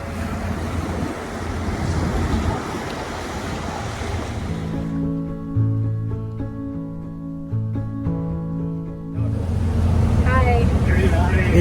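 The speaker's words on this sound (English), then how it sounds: "We are in a water taxi in Venice, another one." Water taxi motoring along a Venice canal: a steady rush of engine and churning water fills the ride, easing midway into a lower, steadier droning tone before the loud wash returns.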